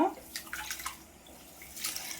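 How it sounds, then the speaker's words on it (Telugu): Rice and moong dal are rinsed by hand in a bowl of water for katte pongali, giving soft, quiet sloshes and splashes in a few irregular bursts. "బియ్యము పెసరపప్పు రెండు వేసి కలుపుకోవాలి వాష్ చేసుకున్న తర్వాత"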